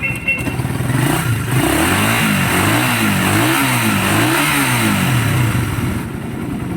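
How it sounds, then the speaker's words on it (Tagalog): Motorcycle engine after a piston ring and valve guide replacement, revved up and down in repeated rising and falling sweeps, loud and close, before it settles back near the end. "ito na ang makina niya"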